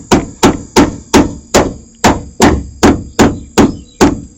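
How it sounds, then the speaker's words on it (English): Rubber mallet knocking door hinge pins into a 1994 Chevy C1500 pickup door, about eleven sharp, evenly spaced blows in a steady rhythm, loud and close with no talking. "And I got me a rubber hammer."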